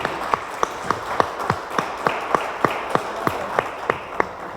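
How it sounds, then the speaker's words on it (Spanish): A steady series of evenly spaced sharp claps, about three per second, sounding like slow rhythmic audience applause in a room at a law lecture, with no talking. "les voy a pedir que le demos un fuerte aplauso y una cordial bienvenida"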